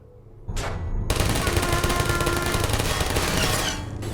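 Turrets in the video game Portal fire a dense, rapid, sustained burst of gunfire lasting several seconds, loud and close, then cutting off.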